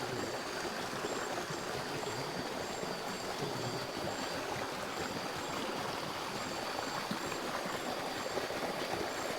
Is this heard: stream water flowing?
yes